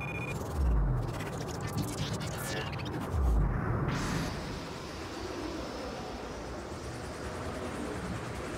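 A helicopter in the video game Syndicate whirs under a dense, steady mechanical drone with game effects, with a voice talking over it.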